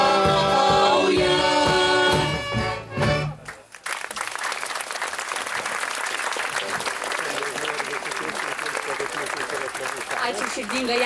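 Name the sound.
audience applause at school jubilee concert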